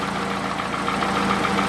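Toyota Camry with a 2AZ petrol engine running rough, knocking and smoking heavily, heard close up as a continuous loud idling rumble with an uneven, pulsing beat.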